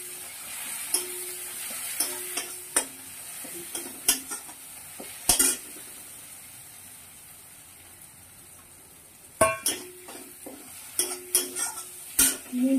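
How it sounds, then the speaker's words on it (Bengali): Chana dal curry being stirred and fried in a pan, with scattered scraping strokes of a spoon against the metal over a quiet background sizzle, clustered in short bursts with pauses between. "এটাই এখন এই তরকারি কষাচ্ছি, তাইতে দিয়ে দিই।"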